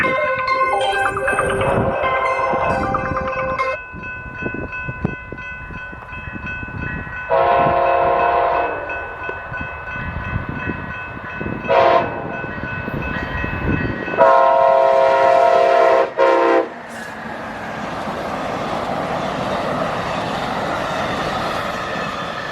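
Amtrak train 352 rolls eastbound past the 11 Mile Rd crossing in Battle Creek, Michigan. Its horn sounds in several loud blasts, then the rumble and rattle of the passing cars fill the rest.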